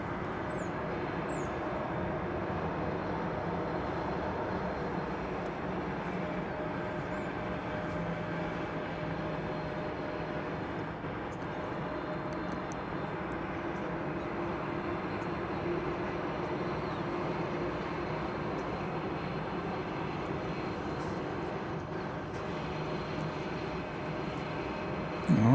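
A Kalitta Air Boeing 747 moving at DFW Airport gives a steady, distant jet engine roar and rumble that holds evenly throughout, with no voices heard.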